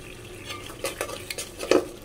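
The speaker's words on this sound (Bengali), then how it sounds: "ভালোভাবে হচ্ছে এগুলো কষিয়ে নিব মশলাগুলো" Ground coriander, chili and salt being stir-fried in a pan, with a few soft scraping stirs and light clinks of a utensil over a quiet sizzle, no talking.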